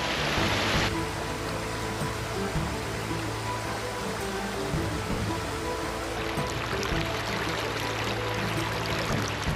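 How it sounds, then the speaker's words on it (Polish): Swollen mountain stream after heavy rain rushing through a gorge in a nature reserve, a loud, steady broadband roar of churning water filling the scene close by, with no voices. "szlak w tym rezerwacie ciągnie się korytem takiego potoku, ale jest po opadach deszczu"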